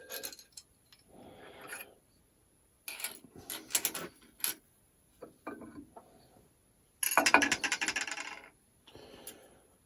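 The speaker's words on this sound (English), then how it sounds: "So I'm mounting in a 5C collet block, and I'll just grind the end off." Metal clatter and ratcheting clicks from a 5C collet block being handled and a workpiece clamped for end grinding in a workshop, coming in several short bursts with quiet gaps between, moderately close.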